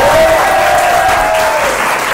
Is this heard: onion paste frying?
no